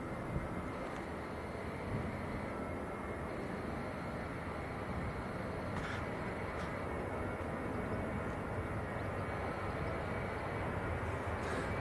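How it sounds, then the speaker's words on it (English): Steady, dense roar of a TUI airliner's jet engines at an airport, constant broadband noise holding at one level throughout with no talk over it. "This is TUI to Sharm el Sheikh down in Egypt."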